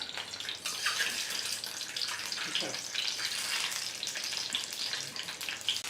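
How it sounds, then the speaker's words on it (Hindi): Boiled eggs, six of them, fry in hot oil over a medium flame for an egg keema pulao. A steady, close, bright sizzle carries on without a break, with a few faint stirring knocks. "मीडियम फ्लेम पर अच्छी तरह से अंडों को फ्राई करेंगे, इस पर एक अच्छी सी कोटिंग आने तक।"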